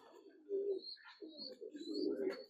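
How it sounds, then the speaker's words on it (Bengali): A male Bagha pigeon of an old natural breed coos in low, throaty rolling notes, two drawn-out bursts close by, with faint bird chirps in the background and no talk. "এটা পুরান জাতের বাঘা কবুতর, ন্যাচারাল একটা বাঘা কবুতর।"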